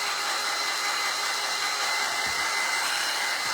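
A hair dryer blows steadily at close range, drying paint on a pumpkin grapevine wreath craft, a continuous even whoosh with no talking.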